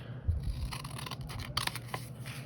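Scissors cut along a paper insert, giving a few crisp close snips and slicing rasps spread over a couple of seconds, with a soft thump near the start.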